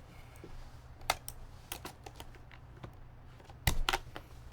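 Spacebar being pressed on a custom mechanical keyboard build, a few sharp clicky presses spread out with a louder double clack near the end, close and alone over a low steady hum.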